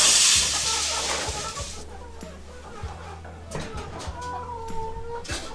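Frightened, newly delivered hens cluck in short, scattered bursts while someone speaks nearby, opening with a brief hissing rush.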